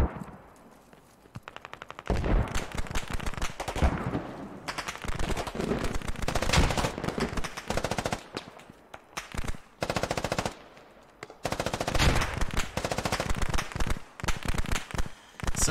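Gunfire in the military shooter game Squad, with dense bursts of automatic rifle fire and rapid shots cracking in loud waves separated by brief lulls over about sixteen seconds.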